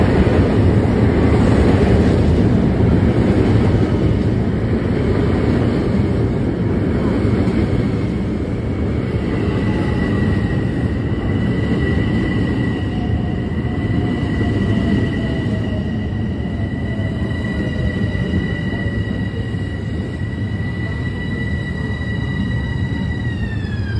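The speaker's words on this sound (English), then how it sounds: "Here's my train. It's 12 cars long" A 12-car commuter train rumbles into Rockville Centre station, a steady heavy roar with rising and falling whines and a squeal of brakes as it slows.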